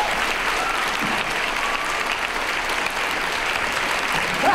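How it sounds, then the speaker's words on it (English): An audience applauds steadily, a dense, even wash of many hands clapping that fills the room without a break. "I want you to clap for her, to give her the respect that she deserves"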